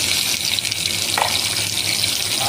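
Tomatoes fry in hot oil in a pan for a coriander, mint and peanut chutney, making a continuous loud, hissing sizzle throughout with no talking.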